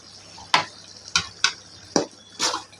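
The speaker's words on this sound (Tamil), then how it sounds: "நல்லா வதக்கி விட்டுக்கணும் அந்த பொடியை." Ground roasted spice powder being stirred into a mushroom gravy in a kadai, heard as five sharp, separate scrapes and clatters of a spoon against the pan over a quiet background.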